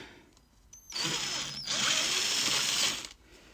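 A power drill with a 6.5mm bit bores a hole for a fuel cap on a Land Rover Defender TD5, whining up in two close bursts of steady grinding, loud and near, then spinning down.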